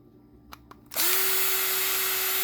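A power driver spins up abruptly after a couple of faint clicks, then whines at a steady high pitch while backing out torx screws from a 2010 Grand Caravan car module.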